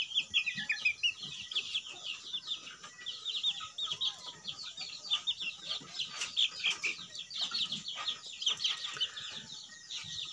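Black-meat chickens kept on a farm cluck continuously, a dense chorus of overlapping calls, some nearer and louder, with no voices present.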